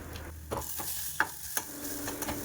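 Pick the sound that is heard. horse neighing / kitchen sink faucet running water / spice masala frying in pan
spice masala frying in pan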